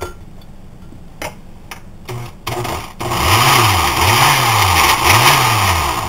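A food processor motor whirs and strains in repeated rising-falling surges, a loud grinding hum after a few sharp clicks and knocks at the start, its blade struggling through fresh herbs too dry to turn it.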